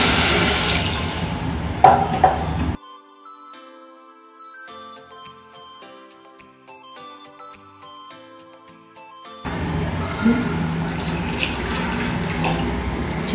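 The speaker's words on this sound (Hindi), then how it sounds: "इसमें पानी डाल देंगे" Water poured into a pot of aloo keema: a rushing, splashing pour at the start and again at the end, with a stretch of background music in between and no talking.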